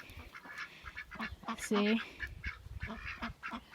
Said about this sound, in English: here's my duckies and my chicken